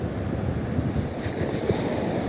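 Ocean waves wash onto Grussaí beach in Rio de Janeiro state on an early morning, a continuous close rumble of surf mixed with wind buffeting the microphone, with no talk.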